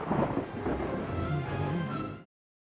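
Rain and thunder in a film scene, The Witches (2020): a steady heavy downpour with a low rolling rumble underneath, loud and close, cutting off abruptly near the end.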